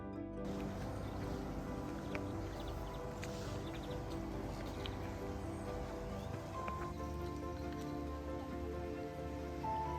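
Steady rain showers along the Camino Inglés near Miño in Galicia, a dense continuous patter of drops on surfaces at even loudness throughout, with no voices.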